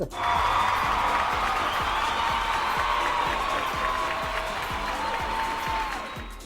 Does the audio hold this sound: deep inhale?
no